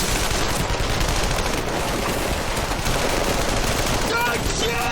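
Gunfire from a TV crime drama scene, a dense, sustained burst of shots filling the whole stretch at steady loudness, with voices mixed in underneath.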